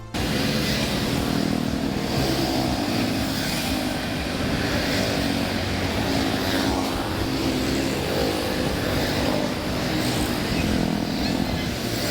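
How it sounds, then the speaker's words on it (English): Busy Cambodian road traffic, thick with motorbikes, makes a continuous dense engine drone and hum that holds steady and fairly loud throughout, with no clear speech. "Just bikes, bikes, bikes, people on bikes everywhere, non-stop."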